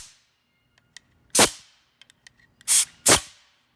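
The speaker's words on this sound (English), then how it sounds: "take yourself an air blower" Compressed air from an air blower blasts into the bolt holes of a freshly rebuilt aluminum C5 Corvette engine block: three short, sharp, loud hissing bursts with a few faint clicks in between.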